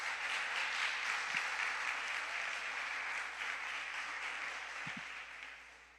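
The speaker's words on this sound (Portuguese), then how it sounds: "Então você pode aplaudir o Senhor com todas as suas forças." A church congregation claps together in sustained applause, dense and fairly faint, fading slightly toward the end.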